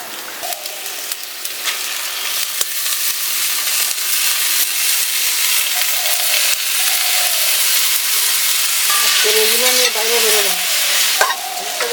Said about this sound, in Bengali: আমি শাকটা দিয়ে দিচ্ছি।